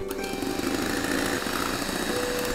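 An electric hand mixer beating cake batter after vanilla essence and salt go in, a steady, loud motorized whir that runs unbroken and close throughout.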